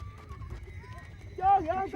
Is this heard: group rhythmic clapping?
no